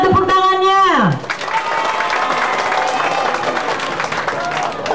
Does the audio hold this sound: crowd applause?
yes